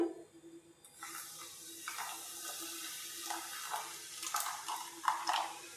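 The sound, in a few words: water being poured into batter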